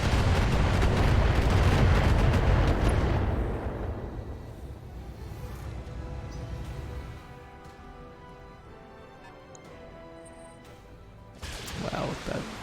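Autocannon and heavy weapons fire in the mech combat game Battletech, one loud booming burst that rolls away into a long fading rumble, followed by a short sharper blast near the end.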